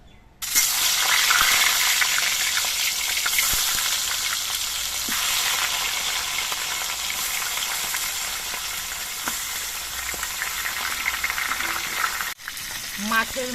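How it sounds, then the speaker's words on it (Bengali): Fish heads frying in hot mustard oil, with a loud, dense, continuous sizzle that starts abruptly and holds steady, marked by faint pops, then cuts out briefly near the end. "তেলটা গরম হয়ে গেছে এবার মাছের মাথাগুলো ভেজে নিচ্ছি"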